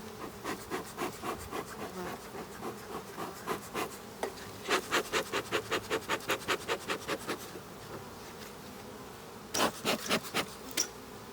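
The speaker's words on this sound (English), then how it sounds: "I've got about 6 frames of bees here." Honeybees buzz in a hive box holding about six frames during a one-week follow-up on a swarm, with a continuous close hum under runs of rapid rhythmic scraping or rasping bursts, and no talking.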